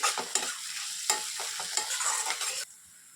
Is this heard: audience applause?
no